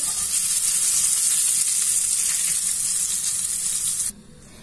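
Skewers cooking in a pan, with no barbecue used, give a loud, steady sizzle and hiss that runs close and continuous for about four seconds before cutting off abruptly.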